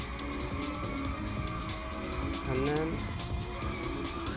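A car drifting in the racing game Inertial Drift, with a steady engine drone and a rising tire squeal partway through, heard under a voice.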